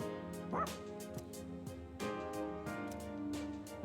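A dog in the Persona 3 Reload video game gives a series of short, quick barks and yips, several sharp bursts close by at moderate volume.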